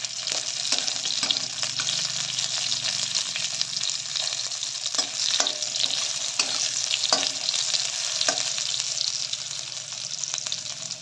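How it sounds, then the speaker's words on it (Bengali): Eggplant frying in hot oil alongside fish heads, a dense continuous crackling sizzle close up, with occasional clinks and stirring taps scattered throughout. "মাছের মাথা হালকা করে বেগুনটা ভেজে নেব তেলে"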